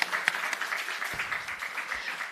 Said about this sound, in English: So you deserve a round of applause for that